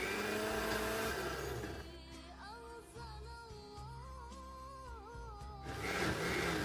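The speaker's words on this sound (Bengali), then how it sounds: "আমি পালং শাকের সাথেই এই পেঁয়াজ, টমেটো, কাঁচামরিচ আর জিরে যে ভাজাটা সেটা দিয়ে এখন একটু ব্লেন্ড করে নিচ্ছি।" A blender grinds spinach, onion, tomato, green chilli and cumin, with a roaring motor at the start and end and a quieter whining middle stretch whose pitch shifts up and down, fairly faint overall.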